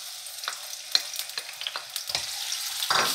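Onions are added to hot oil for Lahori chana and sizzle close up, with crackling spits and the scrape of a spoon stirring the pan.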